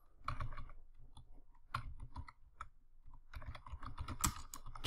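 Close, crisp keystrokes tap on a computer keyboard in irregular quick bursts with short pauses, quiet and alone, as text is entered into a form on a web application.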